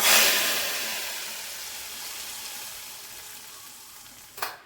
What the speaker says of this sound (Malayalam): കടുക് വറുത്ത് നമ്മൾ ഒഴിച്ചു കൊടുക്കാണ് കേട്ടോ